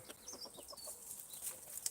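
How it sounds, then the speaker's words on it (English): A hen digging at the base of an apple tree on an allotment gives soft, faint clucks in a loose irregular series, heard from a little distance with no talking. "that chicken digging up my apple tree"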